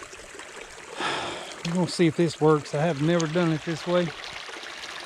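Creek water flowing through a swamp makes a steady background wash under someone talking up close, his voice dominating the middle of the stretch.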